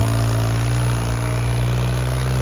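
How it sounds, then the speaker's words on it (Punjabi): A tractor engine idles at a trolley-pulling contest, giving a loud, steady, low rumble that holds unchanged throughout with no voices over it. "ਇਹ ਢਾਬੀ ਦਾ ਟਰੈਕਟਰ ਆ"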